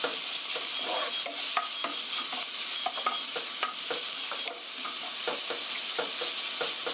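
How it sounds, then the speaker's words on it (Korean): Ground beef stir-fried in a pan with onions for a tomato sauce for rigatoni, giving a steady crackling sizzle with repeated scraping stirs throughout and no voices. "그라운드 비프, 가른 고기, 소고기 넣어주시고요. 고루 볶아주시고요."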